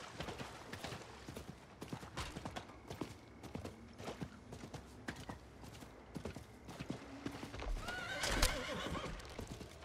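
Horse whinnies and clip-clopping hooves in the video game Diablo 4, with a loud neigh near the end over steady hoofbeats and game sound effects.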